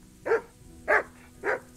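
A dog in the medieval role-playing video game Kingdom Come: Deliverance gives three evenly spaced, short, clear barks, close and moderately loud over a quiet background.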